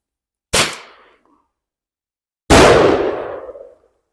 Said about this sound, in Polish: huk z błyskiem i warkoczem